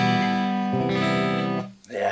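A clean, sustained electric guitar chord through the STL ToneHub Colin Richardson amp plugin rings out with bright harmonics, briefly dipping before another chord sounds.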